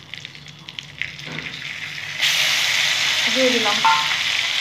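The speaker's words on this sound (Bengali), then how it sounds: "একটু নেড়ে নেবো, এটা ভাজা ভাজা করে নেবো পেঁয়াজ বাটাটা।" Onion paste drops into hot oil and erupts into a loud, steady sizzle that fills the rest of the moment, with brief stirring scrapes; a voice speaks briefly just before.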